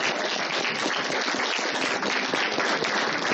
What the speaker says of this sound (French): Janine, donc vous pouvez l'applaudir, c'est notre interprète.